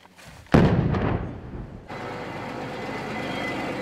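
Controlled demolition of captured munitions in a military operation: a sudden heavy blast booms out, then a long rumbling roar that fades into a steady broadband wash of debris and echo, loud and dominant with no voices.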